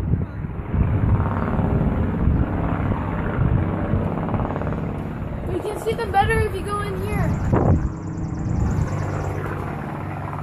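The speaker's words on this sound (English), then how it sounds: "They're noisy planes, eh?" Vintage propeller airplanes drone overhead, their engine noise swelling and shifting as they pass, while a person talks over the steady roar.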